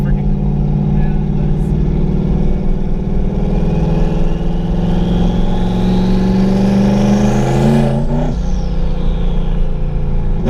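An 800hp turbocharged Mustang engine, troubled by back-pressure issues, pulls hard under acceleration from inside the car. A loud, steady drone climbs in pitch for about eight seconds, then drops off suddenly as the power falls away.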